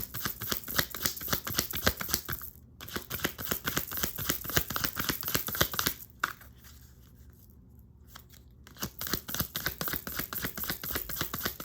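A deck of tarot cards riffled and shuffled up close, rapid dense flutter that stops briefly twice before resuming, with no talking.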